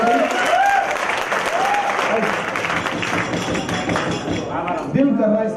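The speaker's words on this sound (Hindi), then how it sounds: "एक बार दोबारा ताली होनी चाहिए" A large audience claps steadily and loudly at a motivational speaking event, with dense continuous applause and a few scattered cheers or voices rising above it throughout.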